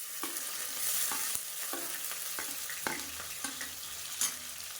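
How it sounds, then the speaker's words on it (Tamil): Chopped onions fry in oil with fennel and curry leaves, giving a quiet, steady sizzle broken by several sharp clicks of a spoon stirring the pan, with no talking. "இப்போ இதில் பொடியாக நறுக்கில் வெங்காயம் சேர்த்துக்கலாம்."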